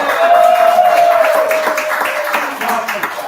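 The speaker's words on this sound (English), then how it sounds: "Give yourselves a big round of applause." Comedy show audience clapping under a voice talking over the applause, moderate and continuous through the short stretch.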